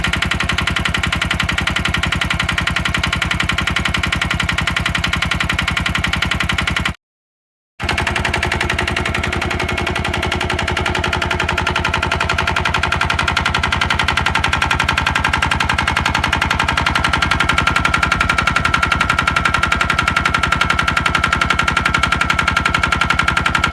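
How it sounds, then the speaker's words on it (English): A vintage two-stroke pedestrian machine engine idles on a very slow tick over, a steady close rhythmic putter that runs without talk and breaks off briefly partway through. "here she is on a very slow tick over, bearing in mind she's a two-stroke"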